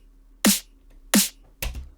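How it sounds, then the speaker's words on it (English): A finished snare drum sample from a dance track hits three times with sharp, bright, noisy cracks, the first two evenly spaced with a low tonal body, the third slightly different and followed by a short decay. "The snare sounds like this"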